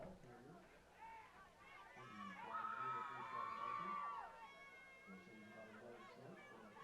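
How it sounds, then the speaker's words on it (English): A home crowd at a high school football game, Plainview's student section among them, swells into a cheer with shouting, rising over general chatter and then fading back to murmur. "Get a big cheer from the crowd."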